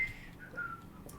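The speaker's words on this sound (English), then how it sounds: "He just whistles the whole way" A person whistles a short, faint wavering tune, alone and softly in the background.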